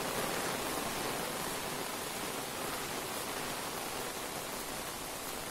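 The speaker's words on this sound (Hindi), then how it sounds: "देख सकते हैं कितनी तगड़ी बारिश हो रही है" Heavy rain pours down on a village, a dense, steady hiss of water that fills the whole scene without pause and stays loud and close throughout, with no voices.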